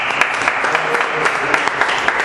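A congregation in a church claps together in a steady, dense burst of applause, loud and close, continuing throughout without any speech over it.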